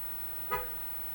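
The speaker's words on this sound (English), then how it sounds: "sorry for the honks outside" A single short car horn toot from the street outside, faint and distant, rising briefly above a steady background hiss.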